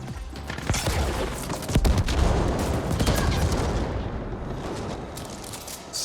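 Rifle fire in The Ascent crackles in rapid, dense bursts with booming impacts and explosions layered on top, loud and steady throughout.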